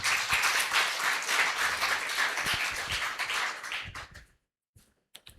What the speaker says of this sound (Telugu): చప్పట్లు కొట్టి దేవుని నామమున మహిమపరచును గట్టిగా